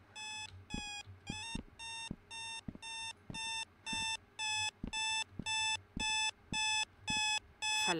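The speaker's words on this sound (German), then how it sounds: "mach den Wecker aus" A video game alarm clock in Sally Face rings insistently in loud, evenly spaced bursts of harmonic electronic beeping, about a dozen pulses in a row, with soft clicks between them and no talking.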